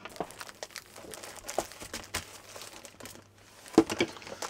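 Heavy duty vinyl fabric being handled and crinkled close by, a series of irregular crackling and rustling bursts with a brief pause before a sharper crinkle near the end.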